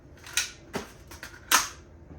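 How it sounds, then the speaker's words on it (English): A Nerf blaster magazine is pulled from a tactical bandolier for a quick reload, giving a few sharp plastic clicks and snaps close by, spaced unevenly over about two seconds. "Let's go for a quick reload."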